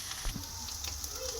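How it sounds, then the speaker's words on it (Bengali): Boiled potatoes fry in hot oil in a pan, giving a steady close crackling sizzle with a faint stir or bump near the start and no talk. "এবার আলুটা একটু লাল লাল করে ভেজে নেব।"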